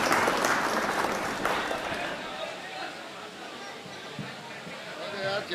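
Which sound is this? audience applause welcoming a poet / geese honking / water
audience applause welcoming a poet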